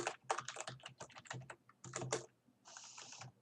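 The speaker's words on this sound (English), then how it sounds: "You're all typing." Several people typing on computer keyboards, a close, busy run of rapid clicking keystrokes in uneven bursts with short pauses, no voices over it.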